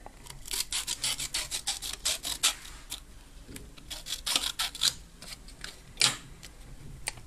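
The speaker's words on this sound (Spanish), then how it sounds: "primero con la lija gruesa, pasando seguidamente a hacer lo mismo con la lija un poco más fina" Rapid rasping strokes of coarse then finer sandpaper scraping a USB connector, in uneven bursts with brief pauses, close and fairly loud.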